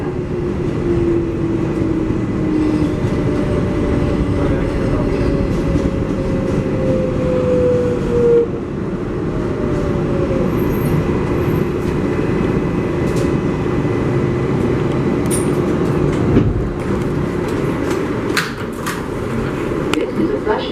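A Flushing-bound MTA 7 local subway train rumbles steadily along the line near Corona Plaza, a loud continuous roar of wheels and car noise with squeals and clanks, while an automated announcement voice speaks over it.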